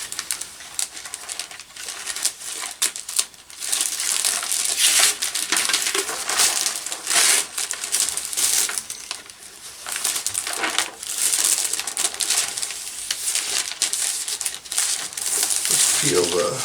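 Clear plastic film peeled off a scratch-built RC airplane Rammel wing, steady close crinkling and tearing rustle throughout, with talking alongside.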